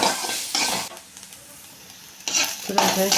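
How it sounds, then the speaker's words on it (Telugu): Onions fry in oil in a pan, a bright hiss that comes in loud bursts at the start and end with a quieter lull between them, no voices. "ఆనియన్స్ ఎర్రగడ్డలు వేయించుకొని ఇప్పుడు ఆయిల్ వేసుకున్నాం ఇప్పుడు ఈజీగా వేయించుకోవాలి"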